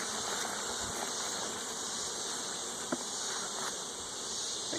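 A dense, continuous buzz of honeybees fills the air as a frame holding eggs, young larvae and capped brood is shaken into a small nuc box, with a faint knock partway through.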